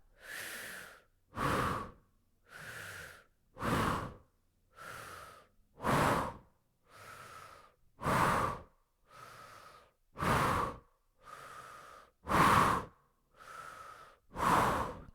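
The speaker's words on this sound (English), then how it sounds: "Breathe with emotion forcefully through the mouth." Forceful breaths pushed out through the mouth during a kundalini kriya, a dozen loud, evenly spaced rushing exhales about one per second, close and clear with no talking.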